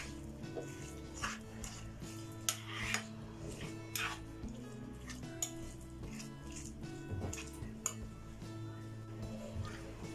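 Raw banana chutney is mixed with curd in a bowl, giving faint, irregular clinks and taps of a spoon against the bowl with soft scraping in between.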